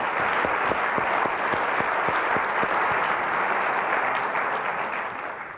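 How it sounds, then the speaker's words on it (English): Steady, full applause fills a college auditorium at a State of the College address, with a few sharper individual claps standing out early before the clapping gradually tapers toward the end. "applause."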